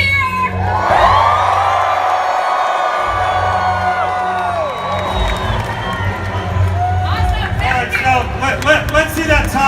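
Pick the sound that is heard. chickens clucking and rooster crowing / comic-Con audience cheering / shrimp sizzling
comic-Con audience cheering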